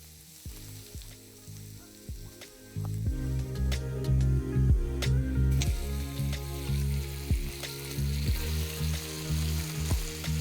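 Chicken pieces and chopped garlic fry in hot oil, a steady close sizzle that jumps louder partway through, with clacks of a spoon stirring through it and no voices.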